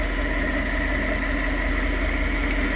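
Toyota 1UZ-FE V8 idling with a faulty two-wire idle speed control valve, a steady close engine hum with a continuous buzzing drone layered on top, unchanging throughout.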